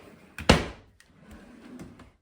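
A drawer in a small guest house kitchen slides with one sharp knock near the start, followed by softer rattling and faint shuffling.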